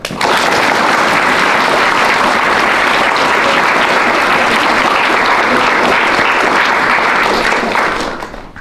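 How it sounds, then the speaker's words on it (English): Loud, sustained clapping from a children's audience at a Key Stage 2 school diversity assembly, a thick uniform roar of many small hands lasting about eight seconds before tapering off. "Are we ready to give big claps?"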